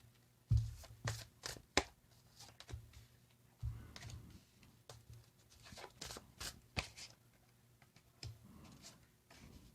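Dixit cards being shuffled by hand during a card reading, a faint run of soft riffling and tapping clicks in irregular bursts with small pauses between.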